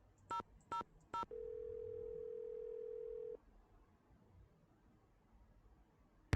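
Telephone in a Nancy Drew game: three short dialing beeps, then a steady dial tone holding for about two seconds before it cuts off into near silence.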